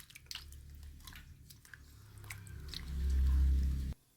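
Freshly cut food rinsed with water in a home kitchen: wet squelching and dripping handling sounds close by, then a louder rushing pour near the end that stops abruptly.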